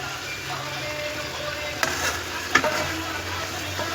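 Soya chunks being stirred into a spice paste with yogurt frying in a pan for a vegetarian soybean curry: a low, steady sizzle with a few soft scraping clinks of the spoon.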